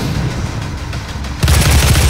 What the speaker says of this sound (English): we did it all with an assault rifle